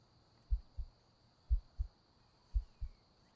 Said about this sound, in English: I want to hear your heartbeat.